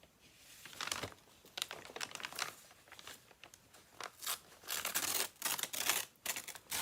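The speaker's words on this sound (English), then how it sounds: "I'm going to tear the map" A paper map is torn into pieces by hand for a butterfly-themed travel journal cover, giving a series of close, crisp ripping and crinkling bursts that grow denser and louder toward the end, with no talking.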